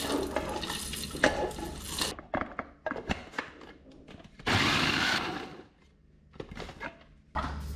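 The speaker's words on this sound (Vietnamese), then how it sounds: "mình sẽ cho hết cái phần hạt dưa nè, dưa với lại mè vào đây mình xay luôn" A blender grinds melon seeds and sesame for a coconut mooncake filling, running in short irregular pulses with one longer, louder whirring stretch in the middle and brief pauses between bursts.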